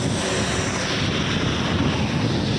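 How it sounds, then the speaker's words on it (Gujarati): Wind gusts roar steadily into the microphone, with a dense, rushing wash of heavy, unceasing rain. "વરસાદ જાય યાર બંધ જ નથી થયો હવાનું આમને ચાલુ ને ચાલુ છે"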